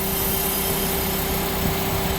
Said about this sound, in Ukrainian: Дивіться, що ми робимо. Ми шліфуємо